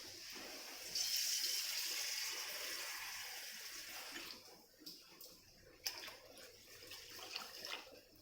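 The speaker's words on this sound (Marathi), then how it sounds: "पुरा भांडं भरून पाणी ओतायचं आहे" Water pours steadily into a pot of soaking lentils and rice for dosa batter for a few seconds, then trickles and splashes faintly as the flow stops.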